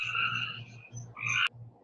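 A frog chorus, rhythmic low croaks pulsing in repeated bursts with higher trilling calls layered above, fairly faint and outdoors, with no talk over it.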